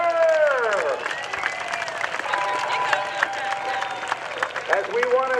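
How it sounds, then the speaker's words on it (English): An airshow crowd claps and cheers for aerobatic pilot Sean D. Tucker. Dense applause rolls on steadily throughout, while a public-address announcer talks loudly over it. "one more big round of applause for Sean D. Tucker"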